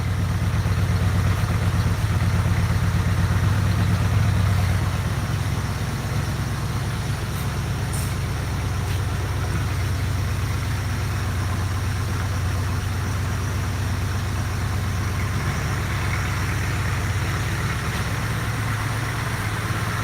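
A car engine idles steadily while warming up, a continuous low rumble lasting the whole stretch, fairly loud and close, with a slight drop in level after the first few seconds and no talk.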